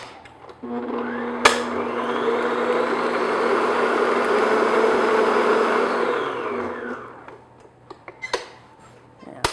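An electric hand mixer beats an egg into ice cream cake batter: a loud, steady whirring hum that starts with a clunk, runs for about six seconds, then winds down, followed by a few sharp taps.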